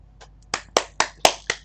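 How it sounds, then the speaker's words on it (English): A few people clap in a short, sparse round of applause for a Geoguessr tournament result, with about five distinct close hand claps in an uneven rhythm. "Round of applause, please."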